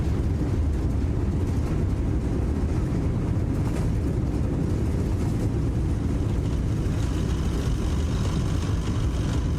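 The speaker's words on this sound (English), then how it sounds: "Reversers are out." Thrust reversers deployed on an Airbus A319 landing in a flight simulator game give a steady, dense engine roar, loud and even throughout with a low rumbling base.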